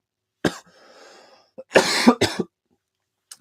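A few sharp, close coughs after using a weed vape pen, in two loud bursts with a brief quiet breathy stretch between and a faint final cough.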